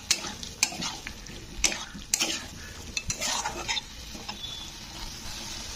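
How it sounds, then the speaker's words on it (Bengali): A spice paste with tomato is stirred and sautéed in oil for a shing fish curry with potatoes, giving soft frying sizzle and scattered clinks of a utensil scraping the pan. "তো দিয়ে মশলাটা দিয়ে কিন্তু এটাকেও কষতে হবে।"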